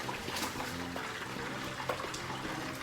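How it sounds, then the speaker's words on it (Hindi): Water poured into a kadhai (wok) in a kitchen while preparing steam roast chicken, a steady splashing, trickling pour that runs continuously and close by, with no talk over it. "ये कढ़ाई में अब मैंने पानी डाला है"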